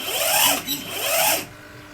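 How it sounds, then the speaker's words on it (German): The locking pin of a Liebherr 956 excavator quick coupler extends with a steady mechanical whirring for about a second and a half, then cuts off into quiet, heard up close. "Ihr seht nochmal den Bolzen,"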